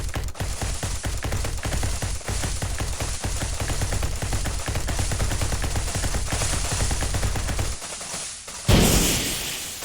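Rapid gunfire in the space game SpaceBourne 2, a dense steady stream of loud shots lasting several seconds before cutting off into a heavier burst near the end.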